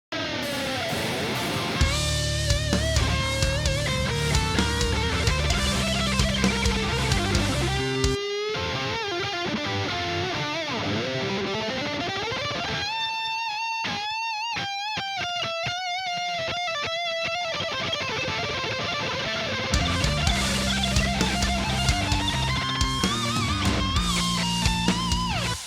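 Distorted electric guitar solo, soaked in stereo delay and reverb, with sustained bent lead notes and fast runs, cutting out and returning over a loud, continuous backing.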